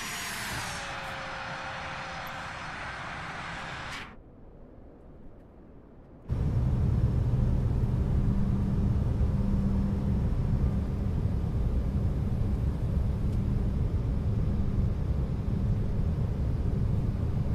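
CRJ-900 jet touching down on a runway in Microsoft Flight Simulator 2020: a loud whining engine roar cuts off briefly, then a dense, steady rumbling roar of rollout continues without talk.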